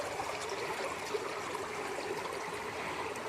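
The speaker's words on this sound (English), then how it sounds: "So the water's flowing through there really fast over those rocks." A stream runs fast over rocks, giving a steady broadband rush and gurgle. It sounds continuous and moderately close, with no voices over it.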